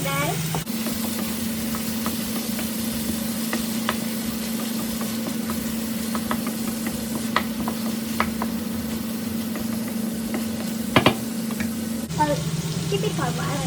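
Bitter gourd and tomato frying in a pan, a steady sizzle with occasional stirring clinks and scrapes under a low hum from a nearby appliance.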